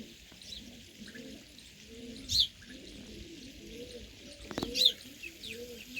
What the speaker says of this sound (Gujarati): છી કરે ચકલી.